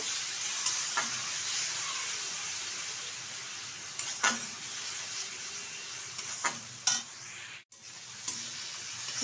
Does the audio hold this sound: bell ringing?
no